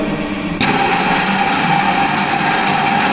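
A pin-on-disc wear test rig grinds a brass specimen against a disc spinning at about 510 RPM, giving off a loud, steady mechanical whir that picks up sharply after a brief start and then holds constant.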